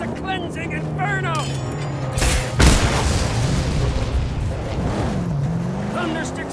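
A tank cannon in the Mad Max video game fires with a heavy, loud boom midway, set against rumbling vehicle engines and game effects.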